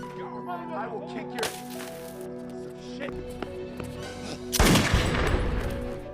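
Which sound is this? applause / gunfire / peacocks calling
gunfire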